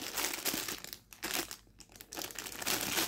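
A paint-by-numbers kit parcel being unwrapped, close crinkling and crumpling of packaging in busy bursts with a brief lull midway.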